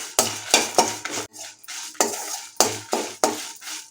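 Cumin, pepper and spices being roasted and stirred in a pan, with a series of sharp scraping and clinking strokes of a utensil against metal at an uneven rhythm, close and fairly loud.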